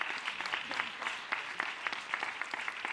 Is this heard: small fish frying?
no